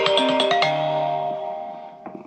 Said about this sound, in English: Who the fuck calling my phone?